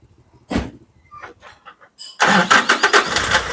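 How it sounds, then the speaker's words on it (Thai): An ice cream truck pulls up and parks, its engine rising suddenly from a faint start to a loud, steady mid-pitched run with rhythmic surges close by, after a few quiet scattered sounds. "รถไอติมมา มามามามาจอดนี่เลยเฮ้า"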